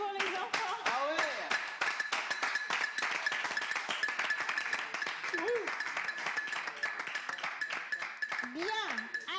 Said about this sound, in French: On applaudit pour les enfants.